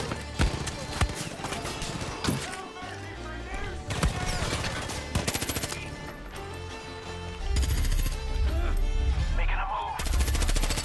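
Repeated gunfire bursts and rapid automatic shots from the video game Far Cry 5, loud and close, layered over a dense, busy game soundscape.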